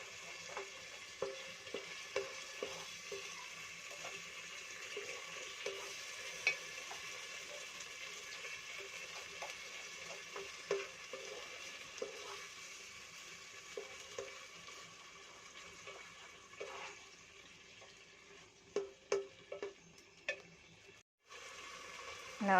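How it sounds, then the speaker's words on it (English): Tomato cubes fry in a pan for bhindi khatta under a faint continuous sizzle, broken by soft scrapes and clinks of a spoon stirring that cluster louder near the end. "let's fry."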